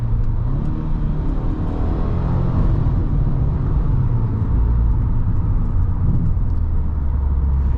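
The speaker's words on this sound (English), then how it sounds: "I'm really more impressed with this CVT transmission, the way it just downshifts with authority. The rev matching, boom." Engine note of a 2022 Subaru WRX with a CVT transmission as it downshifts with rev matching, a steady close road rumble with a rising and falling drone from inside the car.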